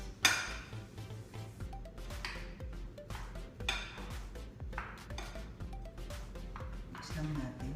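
A potato mixture with pepper is stirred in a bowl, repeated scraping and clinking of a utensil against the dish in an uneven rhythm, close by, with someone talking over it.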